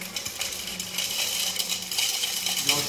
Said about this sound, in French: c'est mélanger l'œuf et le sucre au fouet, blanchir